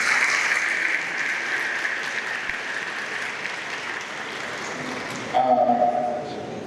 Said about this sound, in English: Please a round of applause to them.